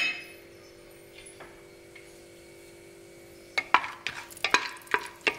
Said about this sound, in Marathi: तूप गरम झालं की आपण 2 हिरवे वेलदोडे, 2-3 लवंगा आणि आपण जी दालचिनी घेतलेली आहे छोटे 3-4 तुकडे ते टाकणार आहे